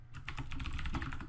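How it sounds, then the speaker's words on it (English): Rapid, continuous clicking of a computer keyboard as someone types into a Windows Phone 8.1 emulator, close and steady with no voices. "Typing on here is a pain, especially when using a keyboard."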